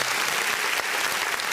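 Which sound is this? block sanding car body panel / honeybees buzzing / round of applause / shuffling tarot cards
round of applause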